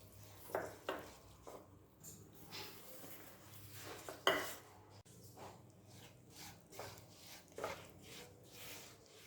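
Sesame seeds are stirred into hot jaggery syrup in a pan, producing soft scraping and occasional light clinks of a spoon against the metal, quiet and irregular with one sharper knock midway.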